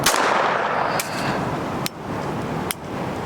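Handgun shots at a shooting range, three sharp reports about a second apart over a loud continuous background rush, fairly close.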